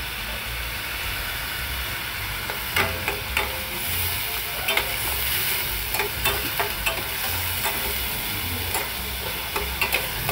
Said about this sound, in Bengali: বেগুনটাকে ভালো করে ভেজে নিচ্ছি।